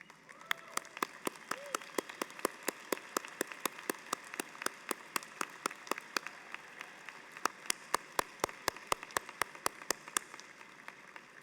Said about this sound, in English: thank your parents, friends, and loved ones for their support with a round of applause